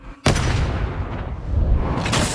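A sudden loud gunshot-like blast from a crime film, followed by sustained booming, rumbling noise that stays dense and loud for about two seconds.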